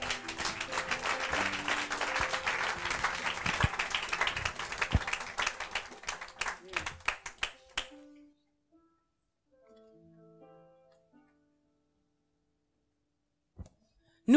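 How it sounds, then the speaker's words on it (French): A church congregation claps and cheers to acclaim the Lord during a French-language sermon, a dense burst of applause that thins into scattered claps and then falls silent, with a faint voice after it. "Oui, tu peux acclamer le Seigneur."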